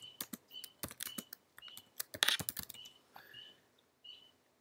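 Rapid keystrokes of someone typing a Hadoop command on a computer keyboard, irregular clicks in quick bursts with faint chirps in the background, close and clear with no speech.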